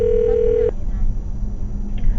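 A steady telephone tone sounds for under a second as a phone number is about to be dialed, then cuts off into low background noise.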